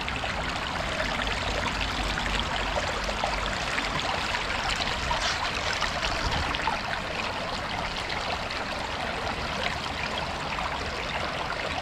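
Water flows steadily through a gold sluice carrying dark material heavy with black sand, a continuous broadband rush that stays even and fairly loud from start to finish, with no talking.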